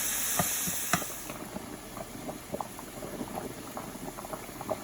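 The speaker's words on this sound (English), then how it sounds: "And then you're going to continue to stir your noodles." Lasagna noodles boiling in a pot of water, a steady bubbling churn with sharp splashing pops and the clink of stirring, loudest in the first second before settling.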